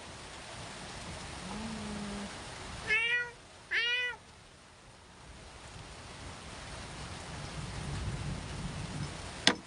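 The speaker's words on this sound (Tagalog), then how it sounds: "Look at my cat." A pet cat lets out two clear meows in quick succession, fairly close, over a steady low rumble of rain and distant thunder, with the background swelling toward the end.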